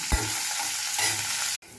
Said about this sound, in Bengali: তাতে কিছু রসুনের কলি, শুকনো লঙ্কা, কাঁচা লঙ্কা আর কালো জিরে আর নুন ভালো করে ভেজে নেব